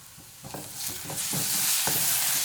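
A spoon stirs tomato frying in a pan for Kerala-style egg curry, scraping in several rhythmic strokes over a steady, rising sizzle, close and clear with no talk.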